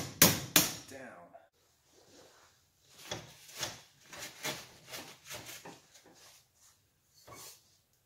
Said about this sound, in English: So I'm taking these clips off the back with an old chisel, actually.